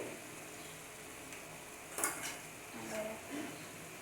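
Tomato puree and garlic paste stirred in a pan, heard as faint scraping and a brief metallic clink of a spatula against the pan, with a soft sizzle underneath.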